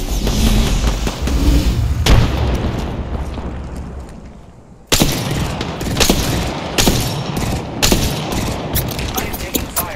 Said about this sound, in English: I am taking fire, friend. Listen up, I'm getting shot at.